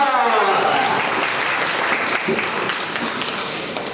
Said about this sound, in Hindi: जब मैं उनका नाम लूं तो एक जोरदार ताली उनके लिए तो बनती है